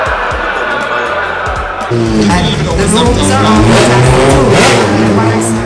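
A race car engine roars and revs steadily, loud and close, as someone speaks over it and a crowd murmurs beneath.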